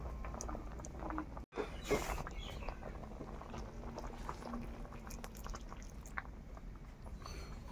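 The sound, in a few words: pot boiling on wood-fire stove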